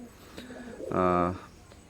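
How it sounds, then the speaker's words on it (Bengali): A single deep, throaty coo from an Oman bloodline Teddy pigeon swells and fades after a short burst of low murmuring, set against a quiet background. "স্ক্রিনে প্রথম যে কবুতর জোড়া দেখতে পারতেছেন ওমান ব্লাড লাইনের নিউ অ্যাডাল্ট এক জোড়া কবুতর"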